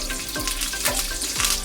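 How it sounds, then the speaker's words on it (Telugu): Curry leaves and tempering spices splutter in hot oil in a kadai on the stove, the tempering for Andhra-style perugu garelu: a steady close crackling sizzle with small popping bursts, and no talking. "చిటపట్లాడే వరకు వేసుకోవాలండి కరివేపాకు."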